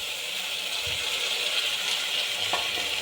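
Mashed tomatoes frying in hot oil with onions, a steady close sizzle that fills the whole moment, with a couple of faint stirring knocks and no talking.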